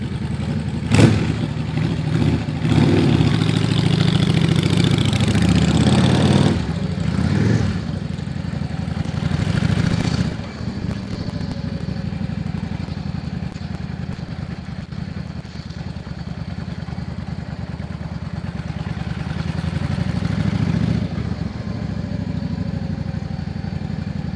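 A Yamaha Drag Star 650 motorcycle engine with 21,000 miles runs nearby with an uneven, rumbling idle. It revs up a few times early on, then settles into a steady putter.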